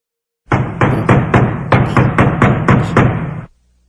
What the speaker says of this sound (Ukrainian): Цього разу стук був такий гучний, що двері затремтіли.